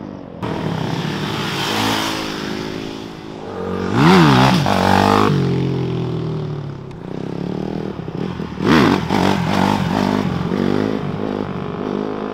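A supermoto motorcycle rides past, its engine loud and close, rising and falling through two strong revving surges with clattering and scraping mixed in, and no voices heard.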